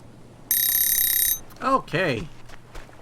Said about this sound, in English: As soon as the alarm hits, extinguish your fire.